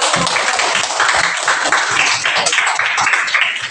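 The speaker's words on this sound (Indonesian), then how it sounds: "Tepuk tangan dulu." A classroom of students claps together in a sustained round of applause after a group presentation, loud and close, with dense overlapping hand claps from start to finish.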